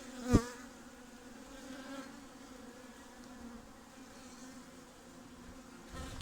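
Honeybees hum steadily around an opened hive during a late-October stock check, a soft continuous drone with a sharp knock near the start and another toward the end.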